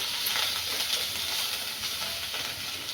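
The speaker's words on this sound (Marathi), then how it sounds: "हे मसाले पण तेलात टाकून घेऊया। स्लो गॅसवर फ्राय करून घेऊया।" Whole spices sizzle in hot oil for a tempering over a low gas flame. The hiss is steady and close, with a dense crackle that continues without pause throughout.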